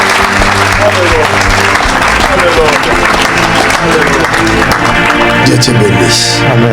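A church audience at a revival service applauds and cheers for Jesus Christ, loud sustained clapping under a voice speaking over it throughout.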